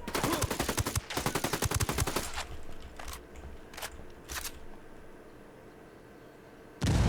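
Rapid automatic gunfire rattles in Ghost Recon Wildlands, a dense burst for about two seconds followed by a few scattered single shots, then a sharp blast at the end.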